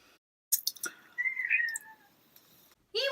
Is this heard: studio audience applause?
no